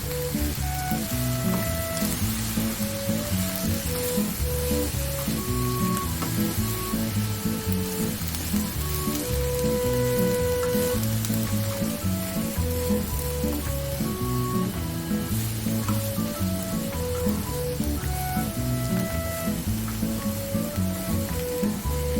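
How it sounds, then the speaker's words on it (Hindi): Food frying in a pan for Singaporean-style fusion rice, a steady dense sizzle running unbroken and fairly loud for over twenty seconds, with a faint tonal hum underneath and no talking. "तो हम 4 से 5 मिनट तक फ्राई करेंगे।"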